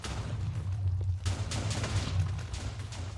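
In Minecraft Bedrock Edition, explosion sounds go off as a short burst of rumbling blasts. The booms are quiet and muffled and lack a sharp crack.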